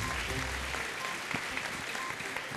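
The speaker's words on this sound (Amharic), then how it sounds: "አንቺ እናትሽን አጨብጭቡላት።" Applause from a church congregation, a steady wash of many hands clapping at moderate distance, fairly faint and even throughout.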